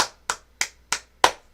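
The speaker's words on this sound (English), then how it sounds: "I'm going to give him a round of applause here." Five single hand claps from one person, evenly spaced about a third of a second apart, sharp and close with silence between.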